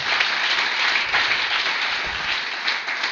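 Church congregation clapping and applauding together, a dense sustained wash of hand claps at moderate volume with no voices standing out.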